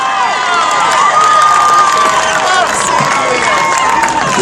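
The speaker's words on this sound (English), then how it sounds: "Give her another strong round of applause" At a Freddie Gray protest rally, a loud outdoor crowd cheers and applauds continuously, a dense roar with whistles and shouts rising over it.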